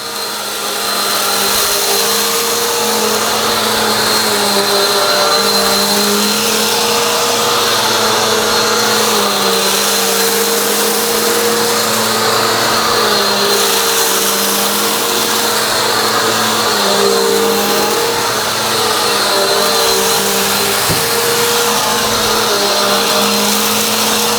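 A Bissell AeroSwift vacuum cleaner runs steadily with its brush roll spinning, a loud, constant motor whine and airflow roar that holds unbroken for the whole stretch, with no talking.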